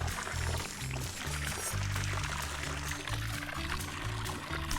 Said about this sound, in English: Y'all ever drank out the water hose?